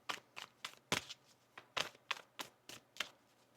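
Tarot cards are shuffled close up in a series of about ten crisp, evenly spaced slaps and riffles, each a short sharp burst over a faint steady hum.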